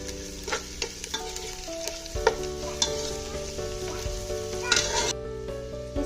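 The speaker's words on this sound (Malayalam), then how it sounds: "നന്നായിട്ടൊന്ന് ഇളക്കി കൊടുക്കാം" Chilli chicken fries in a pan with sugar added while a utensil stirs it, giving repeated sharp metallic scrapes and clinks over a constant sizzle.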